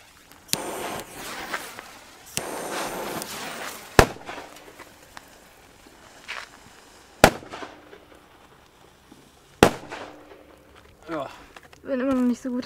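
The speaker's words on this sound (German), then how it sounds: "Also die haben alle nur noch 1 Gramm pro Böller mittlerweile." Small 1-gram firecrackers from Asia Dragon Bazar go off one at a time outdoors, several sharp, loud cracks spaced seconds apart, with people talking quietly between the bangs.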